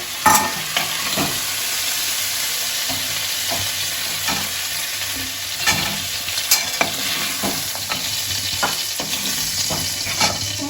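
Shrimp sizzle steadily as they fry lightly in oil in a wok for a bottle gourd and shrimp dish, with frequent sharp scrapes and clicks of stirring throughout.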